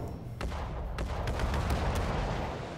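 A battleship's main guns fire a salvo in World of Warships Legends, heard as a few sharp booms over a heavy, continuous low rumble, with no talking.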